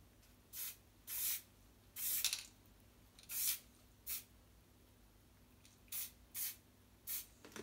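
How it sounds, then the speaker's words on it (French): Spray paint can used on an acrylic painting: a series of short, quiet hissing bursts, about ten of them, coming at uneven intervals over a faint low background hum, with no talking. "on peut le refaire avec un coup de bombe aussi"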